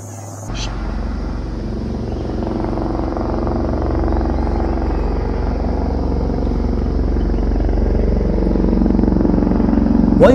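An army helicopter over the forests of Poonch-Rajouri during a search operation: a deep, throbbing engine drone holds steady and grows gradually louder, as if drawing nearer.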